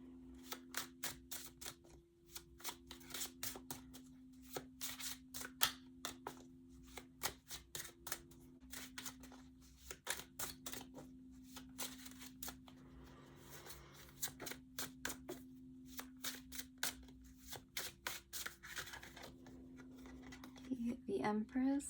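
Tarot cards being shuffled by hand, a long run of quick crisp riffling flicks close to the microphone over a steady low hum, with a voice speaking faintly now and then.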